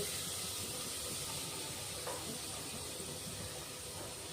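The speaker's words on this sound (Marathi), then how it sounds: "छान मसाला परतून घ्यायचा आपला, कांदे, टोमॅटो, खडे मसाले" Onions, tomatoes and whole spices frying in masala for a village-style mutton curry give a steady, loud, close sizzling hiss throughout, with no voices.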